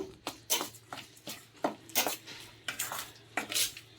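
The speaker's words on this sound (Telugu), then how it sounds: "ఇవన్నీ ముందు బాగా కలుపుకుందామండి" A spoon clinks and scrapes around a bowl while sweet corn vada batter with gram flour is mixed: irregular bright taps and stirring scrapes, close and fairly loud, with no voices.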